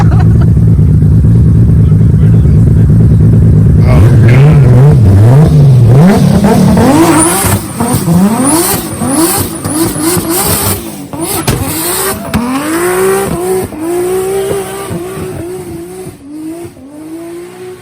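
A Nissan Skyline GT-R R34 fitted with a new turbo idles loudly, then revs hard in repeated rising and falling surges as all four wheels spin. The revving is close and loud, tapering off at the end.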